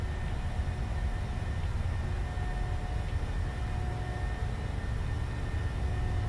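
Airliner jet engines roar at takeoff thrust in a flight simulator game on a Seattle to Los Angeles flight, a steady, loud, unbroken rumble with faint tonal whine and no speech.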